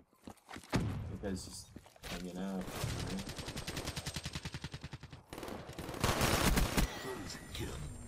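Gunfire in Black Ops 3 during an online match, bursts of rapid shots and blasts with some thuds and footsteps, loud and dense, with a voice speaking briefly.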